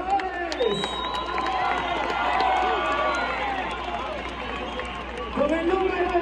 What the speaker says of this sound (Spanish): un fuerte aplauso, un grito para nuestros jugadores.